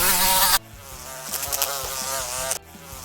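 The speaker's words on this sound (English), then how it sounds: "A fly." A fly buzzes loudly and close by with a continuous, droning hum that swells in a brief louder burst at the start, then holds steady on its own.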